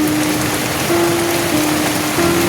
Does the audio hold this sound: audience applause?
no